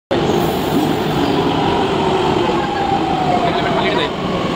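A steady, loud rumble of a metro train moving through a station in Pune, with a continuous rolling roar and faint voices underneath.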